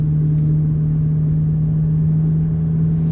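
Chevrolet Corvette C8 Z06 engine in track exhaust mode holding a steady, loud, deep drone at a constant pitch, an even low rumble with no revving throughout.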